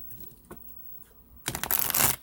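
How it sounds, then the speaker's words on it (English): A deck of tarot cards is shuffled close up: a few soft handling taps, then a loud, rapid riffling burst lasting under a second. "I'm going to shuffle them."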